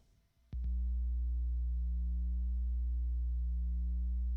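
A Line 6 Pod HD500 running a Fender Bassman amp model with its hum control raised gives a low, steady electrical buzz that kicks in abruptly after a brief click and holds loud and unchanging.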